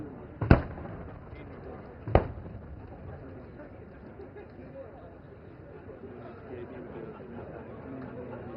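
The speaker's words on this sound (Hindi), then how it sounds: "जहां मेन बैटल टैंक अर्जुन अपने मेन गन से और BMP-2 सारथ अपने anti tank guided missile conquers के संगठित फायर से टारगेट ग्रुप 3 में दुश्मन के टैंकों" Arjun main battle tanks fire their main guns with BMP-2 anti-tank missiles during the Bharat Shakti exercise at Pokhran: two sharp, distant booms early on, then a low rumbling outdoor background.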